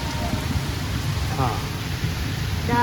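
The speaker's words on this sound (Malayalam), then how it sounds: "ഓ, ഊത്താലടിക്കുന്നു" Wind-driven rain spray gusting across an open Mumbai viewpoint in heavy monsoon rain, a steady broad rushing hiss close to the microphone, with a faint tonal whistle passing through.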